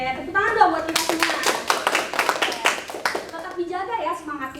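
A class of children claps hands together in a quick burst of sharp, close claps lasting a few seconds, with children's voices talking before and after.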